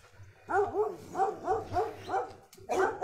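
A dog barks repeatedly on a street, a series of sharp, whining yelps in an uneven rhythm, fairly close and loud over low background hum.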